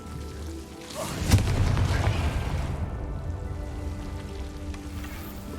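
A Confringo spell explosion in Hogwarts Legacy goes off as a sharp crack, then swells into a loud, rumbling boom that slowly fades into a crackling, rain-like tail.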